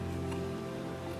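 Diesel fuel bleeding off on a 2004 Ford F-350 6.0L engine gives a brief, faint steady hiss and spray, close by with no talk.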